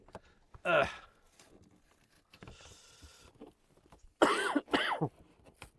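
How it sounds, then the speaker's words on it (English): A few short, sharp coughs burst out close by, two loud ones near the end, with quiet breathy noise between them. "There may or may not be some horrific coughing fits through this."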